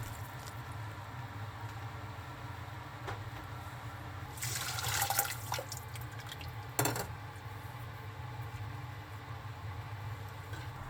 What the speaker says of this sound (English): pouring boiling water over the fried tofu to remove excess oil